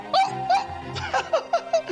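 A voice imitates a dog barking, giving a quick series of about six yappy "woof" sounds in a steady rhythm, close and fairly loud.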